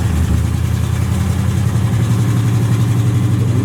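A Chevy box car's engine runs steadily after repairs, a loud, close, continuous rumbling idle with no breaks and no voices over it.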